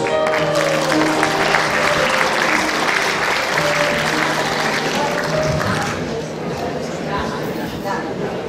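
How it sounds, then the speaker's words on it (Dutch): An audience applauds at a revue performance, a loud round of clapping mixed with crowd noise and some talk, easing slightly toward the end. "Geef een goed applaus."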